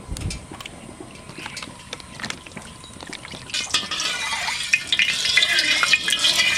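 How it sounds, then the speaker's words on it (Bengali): Mustard oil in a hot kadai for tempering dal, with clattering and stirring at first, then a rising hiss and sizzle that grows louder and fills the last few seconds, with no talk over it. "কড়াই গরম হয়ে গেছে, ডালের সম্বার দেবো সর্ষের তেল"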